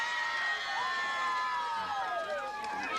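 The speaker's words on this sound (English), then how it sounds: "you can hear the crowd counting here at Saucon Slam" Wrestling arena crowd at Saucon Slam calling out in rising and falling chants, a loud, steady wash of many distant voices filling the hall.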